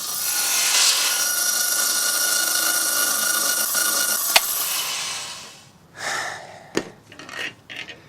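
A power saw grinds steadily through wood for several seconds, then cuts off, leaving scattered clunks and rubbing noises.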